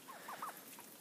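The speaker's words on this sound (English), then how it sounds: "There is our golden lace Wyandotte hens." Golden laced Wyandotte hens on a homestead give a few soft, rising clucks and trills, with quiet chicken calls spread through the moment over a steady outdoor background.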